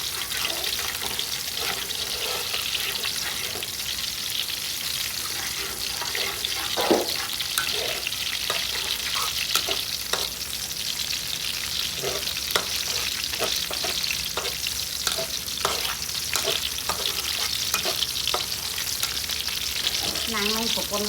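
Fish soup ingredients stir-fried over an open fire in a Khmer village kitchen: steady loud sizzling and frying hiss throughout, with scattered scraping stirs and clinks of utensils against the pan.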